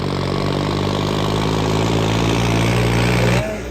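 A Swaraj 855 tractor engine runs nearby, loud and steady, with a low rhythmic diesel chug and strong humming tones. Near the end the engine note drops away sharply.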